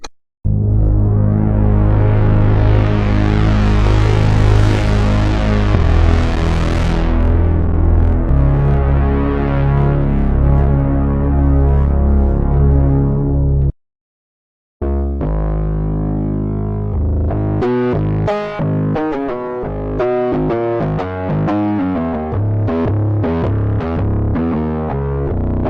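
Bass presets from the Valia synthesizer library by Luftrum and Sonic Underworld, loud distorted and heavily processed like an effected bass guitar: a long sustained growling passage, a short silence, then choppy rhythmic bass notes.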